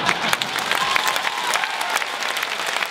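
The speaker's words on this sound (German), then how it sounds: "Ihr Applaus, meine Damen und Herren," Audience applause at a comedy stage show in Germany, a dense, steady wash of clapping from a live crowd lasting the full stretch at moderate volume, with faint voices mixed in.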